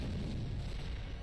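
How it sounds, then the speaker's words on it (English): Bombs going off in the video game Castle Crashers: a dense, continuous low rumble of overlapping blasts with no clear gaps, fairly loud. "That's a lot of bombs."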